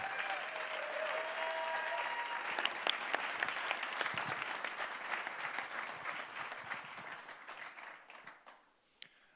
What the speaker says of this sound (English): let's have another round of applause for all of them